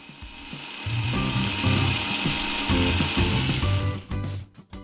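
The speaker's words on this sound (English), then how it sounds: "Now it starts to blend. Start at a low speed and gradually increase it." A blender motor grinds sesame seeds with garlic and olive oil for tahini, a loud, continuous rough whir with a grating edge that changes pitch as it runs.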